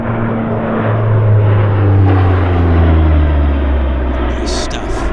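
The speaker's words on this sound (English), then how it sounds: "Here comes one more high-speed pass" A CP140 Aurora four-engine turboprop patrol aircraft makes a high-speed pass at the Comox airshow, a loud, sustained propeller drone with a falling pitch as it sweeps past, with a voice over the noise.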